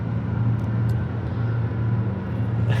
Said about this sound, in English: This train sounds really weird.